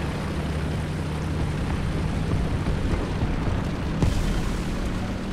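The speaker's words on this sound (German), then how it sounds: "Eine Bombe hinter mir gelandet." A bomb bursts behind a tank in War Thunder, its deep boom landing amid a steady rumble of engine and battlefield noise, with a sharper thud near the end.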